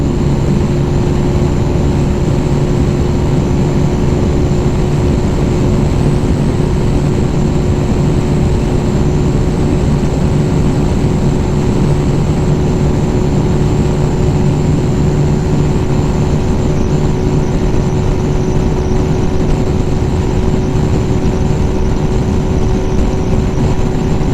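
A Lifan KPM 200 motorcycle with a 16-tooth sprocket and new racing chain running at top speed in 6th gear, a loud, steady engine drone with constant wind rush, unbroken for the whole stretch.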